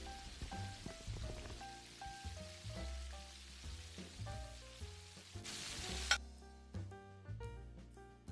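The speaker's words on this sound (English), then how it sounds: "So go back and fry the next batch and we are almost there." Tilapia fish frying in hot oil give a steady sizzle, largely masked by prominent background music playing throughout.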